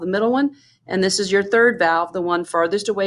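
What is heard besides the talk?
No everyday noises stand out.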